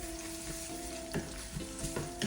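Chicken masala with ginger-garlic paste fries over a low flame, a steady close sizzle broken by a few short stirring scrapes in the pan, with no talk.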